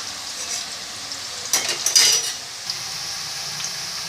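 Hot oil hisses and sizzles quietly, with a brief louder burst of crackling in the middle as raw banana slices are added to the pan.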